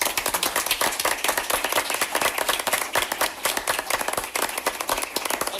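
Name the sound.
audience applause for students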